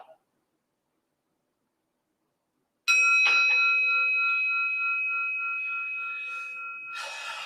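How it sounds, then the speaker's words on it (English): A single bell rings out loud at the start of a meditation session, its clear tone holding with long harmonic overtones and slowly fading over several seconds, with nothing else sounding. "Now I will ring the bell."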